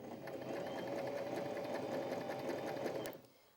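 A Janome J3-20 sewing machine stitches buttonhole bar tacks in a fast, steady mechanical whir that runs for about three seconds, then stops abruptly with a faint click.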